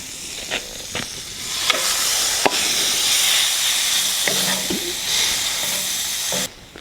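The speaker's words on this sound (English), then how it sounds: "We've got the pan going there, we might just add a bit of butter." Butter sizzles and hisses steadily in a hot pan over a fire while rump cap cooks, with occasional clinks and scrapes of stirring breaking through the constant frying noise.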